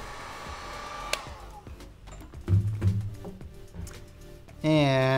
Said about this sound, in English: It looks like it might be glued in place a little bit, so I'm going to hit it with some heat before I do any prying.